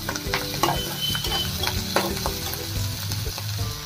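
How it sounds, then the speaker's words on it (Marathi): Curry leaves and chopped coriander crackle in hot oil in a pan, a close, busy sizzle with sharp pops and scraping stirs, no talking. "कढीपत्त्याची 7 ते 8 पानं मी यामध्ये घालून घेते"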